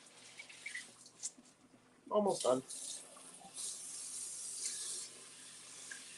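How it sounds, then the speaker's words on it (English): Tap water runs and splashes over wild bird seed being rinsed for grain spawn, a short louder burst of pouring near the middle, then a steady faint stream, with a brief spoken remark over it. "anything that's on this bird seed is getting washed off for the first time right now"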